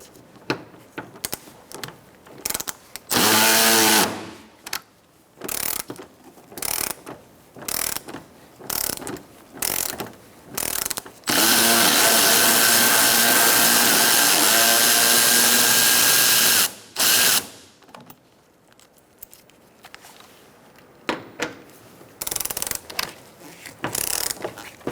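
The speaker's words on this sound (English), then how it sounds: "Use a 10mm socket and remove this bolt and also the one on the other side." Ratchet fitted with a 10mm socket removing bolts during AC condenser work on a 2014-2019 Kia Soul 1.6L, giving loud, close clicking bursts in short repeated runs, with one longer sustained stretch of rapid ratcheting.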